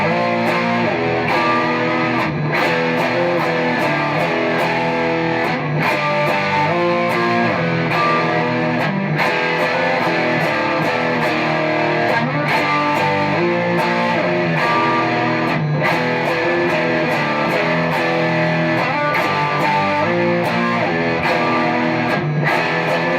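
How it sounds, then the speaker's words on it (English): Single-coil Strat played through a TC Electronic Darkmatter Distortion pedal with the gain cranked, giving a dense, loud, sustained distorted tone with repeated chord attacks throughout, no talking. "Let's hear how the pedal sounds with the gain cranked on a single coil guitar."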